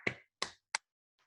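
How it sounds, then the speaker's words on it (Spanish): Three sharp, dry slaps of hands on thighs, evenly spaced, followed by a faint fourth touch, close and alone with no other sound. "con las palmas en los muslos"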